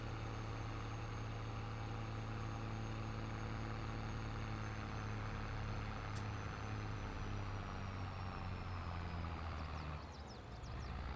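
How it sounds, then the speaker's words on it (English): Tractor engine in Farming Simulator 22 straining to climb a hill unloaded, a steady low droning hum with strong harmonics, continuous and even, dipping slightly near the end. "Oh, come on, tractor. Can't even pull it up the hill unloaded."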